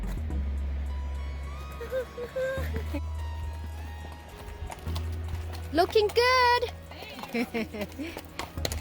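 Horses walking on a mountain trail near Lake Louise, Canada, their hooves clip-clopping under a low rumble of wind and engine-like noise, with people talking and a short whinny-like cry near the end.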